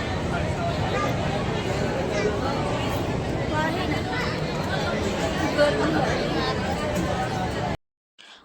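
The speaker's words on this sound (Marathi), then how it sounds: "खूप जास्त गर्दी होती" Large crowd chattering at the Shegaon temple during Diwali holidays, a dense steady babble of many voices filling the space, continuous and fairly loud before cutting out abruptly near the end.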